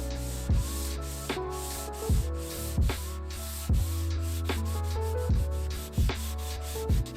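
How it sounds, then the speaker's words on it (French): Hand sandpaper rubs over a wooden shelf and back panel, coarse grit and then fine. Steady close strokes rasp alone in a regular rhythm, with a sharper scuff marking each turn of direction about every second. "une étagère et un fond qui avaient vraiment besoin d'un bon ponçage. À l'ancienne, d'abord avec un gros grain puis un grain fin."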